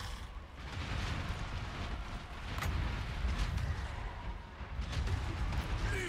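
A Bone Giant fires in Total War: Warhammer II, heard as dense, rumbling game battle noise with deep booming impacts and continuous low roar across the whole stretch, no voices over it.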